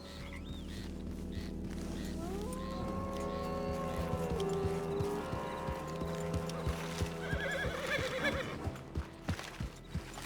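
In the Red Dead video game, a horse whinnies and snorts near at hand, then its hooves clop in a loose, uneven rhythm toward the end, over a low, quiet outdoor ambience.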